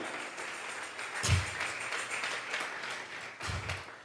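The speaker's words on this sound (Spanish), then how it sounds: "Vamos a regalarle ofrenda de palmas al Dios de la gloria" Congregation at a Sunday church service applauding, a moderate, fairly distant wash of clapping with a couple of louder thumps, continuing steadily.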